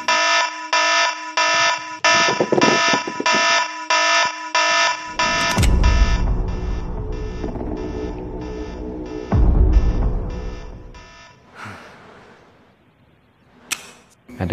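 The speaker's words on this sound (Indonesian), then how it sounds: "ternyata masih ada door sensor dan siren alarm" A loud door-sensor siren alarm blares in rapid pulsing electronic bursts, then gives way to heavy rumbling, clattering noise and trailing sounds, ending with a few sharp clicks; no speech.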